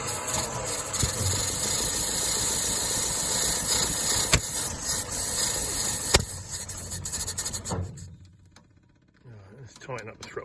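Engine of a Rootes 1725 Fastback car that won't run properly, running with a rough rattling idle and slight revving close by, with people talking over it, before it cuts out near the end.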